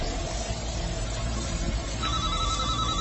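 A mobile phone rings with repeating electronic tones during a tense scene in a French action film, sitting at moderate level over low background rumble and music.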